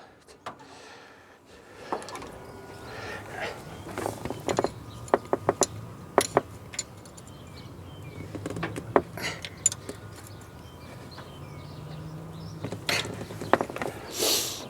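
Tightening down a part on a 1995 Ford F150 engine: metallic clicks, clinks and ratcheting taps close by, scattered irregularly over a quiet workshop background.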